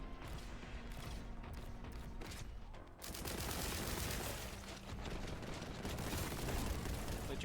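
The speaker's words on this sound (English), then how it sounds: "you can explode a grenade by shooting at it" Explosive blasts and rapid gunfire in Warhammer 40,000: Boltgun as a shot grenade detonates, a dense, loud barrage of booms and crackling shots continuing without pause.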